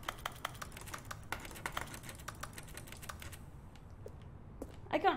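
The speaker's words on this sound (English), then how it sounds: "Whoa, the reverb on the fucking keyboard noises." Keyboard typing in the video game The Stanley Parable, rapid clicking keystrokes with a noticeable reverb tail that thin out and stop, followed by a brief louder sound at the end.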